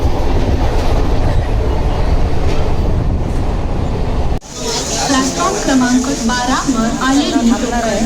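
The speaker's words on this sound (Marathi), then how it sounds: "आता आम्ही चढलो ट्रेनमध्ये" A Mumbai suburban local train rumbles loudly along the tracks toward Dadar with a steady roar; partway through, the noise shifts and people can be heard talking over the ride.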